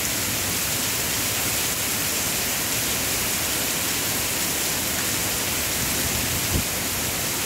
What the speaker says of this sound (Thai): ท้องฟ้าสว่างฝนน่ะยังไม่หยุด